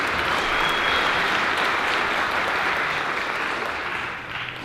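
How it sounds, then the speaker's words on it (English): Loud, dense applause from a high school concert audience fills the whole stretch, steady and sustained before tapering off slightly at the end. "Let's give them a round of applause, please."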